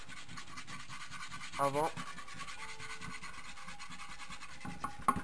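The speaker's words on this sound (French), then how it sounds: "Il est toujours bien important de bien poncer" A Lifan 125 motorcycle part is sanded by hand before painting, making faint, rhythmic rubbing and scratching strokes, with a brief voice and a couple of soft knocks.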